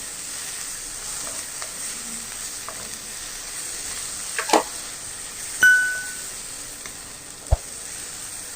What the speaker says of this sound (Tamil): இப்போ இந்த தக்காளி வந்து நல்லா எண்ணெய் பிரிஞ்சு வர்ற வரைக்கும் நம்ம வந்து வதக்கி விட்டு எடுத்துக்கலாம்